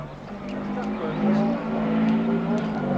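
A Ford Escort Cosworth rally car's engine drones steadily at close range through a stage of the 1997 Kerridge Rally, its note rising and falling slightly with throttle over a constant mechanical roar.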